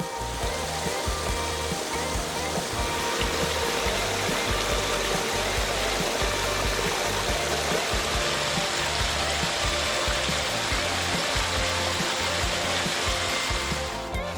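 A backyard pond waterfall driven by a 5,000 to 9,000 gallon per hour pump pours in a constant, dense, broadband rush of falling water, steady and unbroken throughout with no voices.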